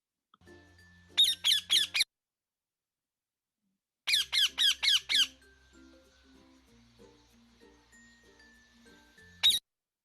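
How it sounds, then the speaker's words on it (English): A parrot lets out two quick bursts of shrill, squeaky squawks, four or five calls in each, then a single squawk near the end, close and loud with quiet gaps between. "that was the sound of a real parrot."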